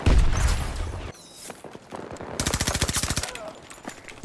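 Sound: mounted machine gun turret firing in Battlefield 2042 (video game)

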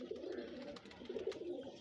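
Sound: pigeon cooing

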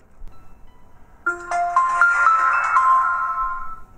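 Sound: Samsung Galaxy A5 clone phone boot sound

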